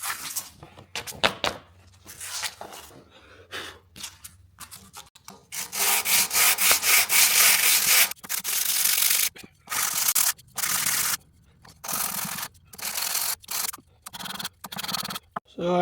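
Scrubbing and scraping old crud off an antique block plane: loud, irregular bursts of rasping friction strokes, stopping and starting with short pauses, close up and with no voices.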